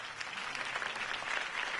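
Steady crowd applause from a Batman video game, a dense wash of clapping held at an even level for the whole short stretch, with no talk over it.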